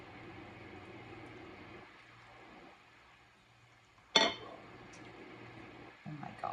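Lasagna soup with melted cheese being scooped from a crockpot: a quiet low kitchen hum, then one bright clink of a ladle against the pot, followed by softer handling sounds.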